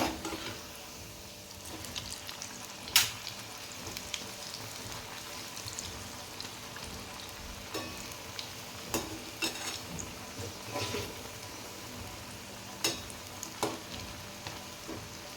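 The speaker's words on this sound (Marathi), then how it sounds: "आता आपण भजे पलटी मारून घ्यायचे" Coriander pakoras fry in oil, a soft, steady sizzle. Intermittent sharp clicks and scrapes come as they are flipped one by one.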